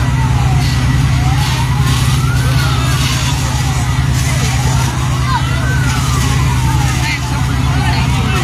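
A fire truck siren wails in slow rising and falling sweeps over a loud, constant engine rumble at a residential fire in Santa Rosa, Laguna, Philippines, nearby and continuous.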